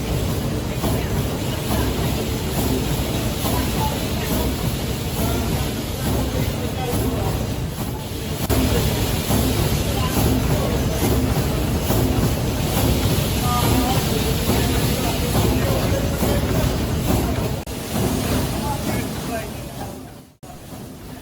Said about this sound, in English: listen to the wonderful song of the steam engines as they beat out the time